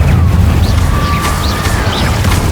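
A fire spell cast in the video game Hogwarts Legacy, heard as a loud, continuous roaring rumble with sweeping whooshing tones over it. No voice is heard.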